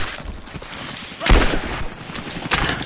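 Gunfire crackles in Rise of the Tomb Raider as a ragged burst of shots, a heavy blast near the middle, then another close volley.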